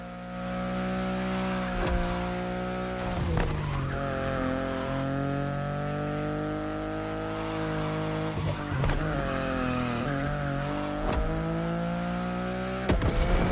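BMW i8 driving in The Crew Motorfest, a steady engine drone with shifting pitch, punctuated by a few sharp tire-squeal or gear-change bursts, close and loud without talk.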